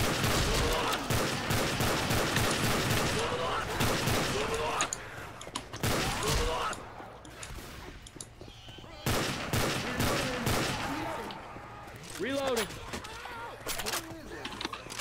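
Heavy gunfire in the video game Left 4 Dead 2, including shotgun blasts, rattles in dense repeated bursts with brief lulls. Players talk and shout over the shooting throughout.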